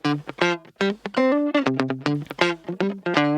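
A clean electric guitar plays a choppy, funky disco riff of short plucked chords and notes, dry and uneven in level.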